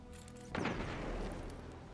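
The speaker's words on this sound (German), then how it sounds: "Schmeiß dir mal eine Granate da rein." A grenade blast in the video game Destiny 2 hits as a single loud, booming burst midway through, then rumbles and decays under continuing game noise.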